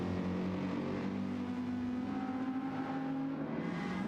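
A race car engine drones steadily at Lago Maggiore in a racing video game, a loud, sustained whine that rises slightly in pitch as it accelerates, with no talk over it.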